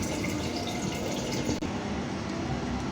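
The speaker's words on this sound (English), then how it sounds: "So the mixture, I'm pouring it into those containers equally." A mixture of egg, carrots, cabbage, onions, peppers and garlic is poured into containers, giving a continuous wet, splashing flow with a brief dip midway, with no talk.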